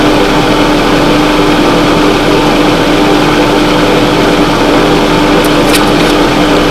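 A tool-post grinder runs on a lathe with a loud, steady mechanical hum and hiss, unchanging throughout, with a few brief high clicks near the end.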